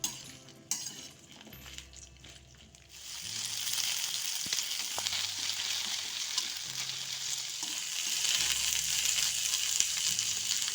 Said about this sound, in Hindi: हम इनको 4-5 मिनट फ्राई करेंगे।